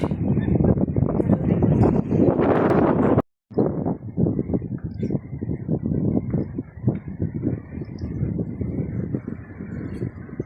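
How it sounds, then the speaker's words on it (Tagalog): Strong wind buffeting the microphone on Pulau Besar island off Malacca, a loud continuous roar with gusting texture that cuts out briefly once. "Lakas ng hangin."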